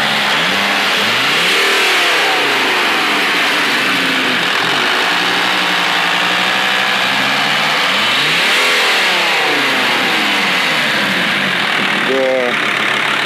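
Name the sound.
chip-tuned Audi car engine revving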